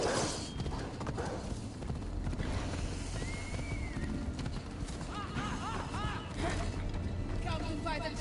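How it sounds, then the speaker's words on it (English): Horse hooves clip-clopping in a video game, with a horse neighing and whinnying over a busy game soundscape; a voice speaks briefly. "Horse."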